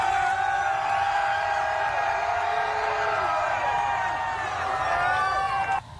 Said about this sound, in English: Listen in as the crowd reacts to Giannis hoisting the championship trophy.